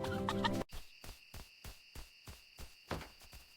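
Baby hens in a cartoon chirp in a quick, regular series of about ten short peeps, preceded by a brief burst of tonal music, fairly faint overall.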